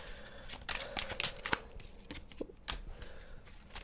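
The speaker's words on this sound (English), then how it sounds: "I got one more deck to shuffle" A tarot card deck being shuffled up close, with soft riffling bursts and brisk slapping card sounds in an irregular rhythm, fairly quiet with no talking.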